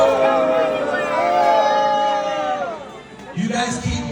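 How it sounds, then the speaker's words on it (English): A wrestling event crowd boos loudly in long, drawn-out, overlapping jeers that swell and dip, then break into rowdier noise near the end. "You guys keep booing me."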